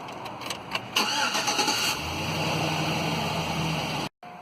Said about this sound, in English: you can attempt to start the dead vehicle